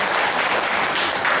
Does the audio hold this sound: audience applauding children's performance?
yes